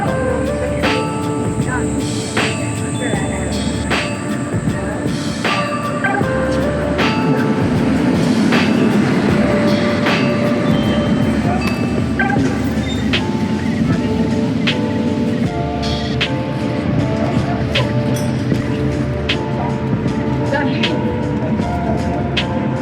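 A tram pulling into a stop in Prague, its rolling wheels rumbling and clacking steadily for over twenty seconds with rising squeals and clatter, heard close under street ambience.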